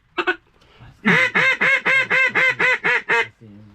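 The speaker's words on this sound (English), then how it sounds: "there's like a few ducks" A few ducks on open water give a rapid run of about nine loud, honking quacks in steady rhythm after one brief call, fairly near and with no talking over them.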